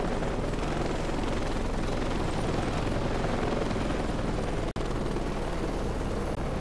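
A helicopter in the Heliborne combat game flies with a loud, steady rotor and engine roar, dense and unbroken, with a brief dropout near the end.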